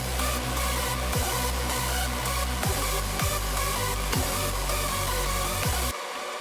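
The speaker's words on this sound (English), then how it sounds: "a new melody, which sounds like this" A new melody from an electronic dance music production plays over a dense, steady beat with a punchy kick and a sustained buzzy synth bed. It stays loud throughout, then cuts off abruptly near the end.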